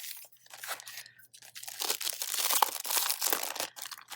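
Single-sided pattern paper sheets from a card-making kit are handled close up, giving crisp crinkling and rustling bursts that swell and fade, loudest in the second half, with no talking.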